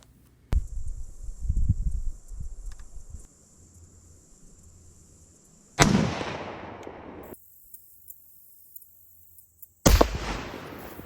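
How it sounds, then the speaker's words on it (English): Rifle shots fired at a target while sighting in a rifle: two sharp, loud reports several seconds apart, each with a short ringing tail, over quiet outdoor ambience with some handling noise. "I'm going to put 2 more rounds on that target"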